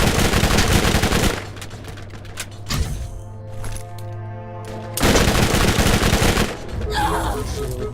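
A turret in the Borderlands video game fires rapid automatic bursts, two long loud volleys separated by a quieter mechanical hum, close and harsh, with no voices over it.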